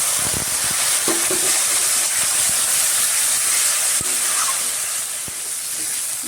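Spice paste water hitting a hot pan while cooking a brinjal and Roopchand fish curry, a loud, steady, close sizzle with occasional pops and crackles throughout.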